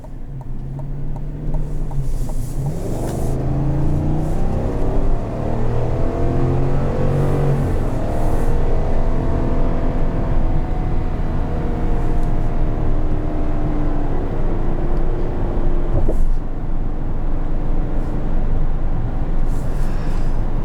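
A 2021 Chevrolet Suburban High Country with a 10-speed automatic accelerates, its engine drone rising in pitch through several gear changes over steady road and cabin noise, with no talking.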